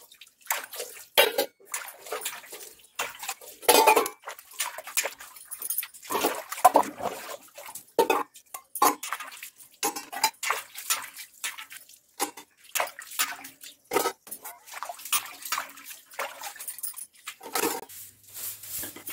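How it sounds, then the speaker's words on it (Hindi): Dishes, pots and cutlery being washed by hand with running water in a home, a steady stream of splashing, clinking and sloshing bursts throughout, fairly soft and with no talking. "बर्तन यहाँ पे साफ हो गए थे मेरे"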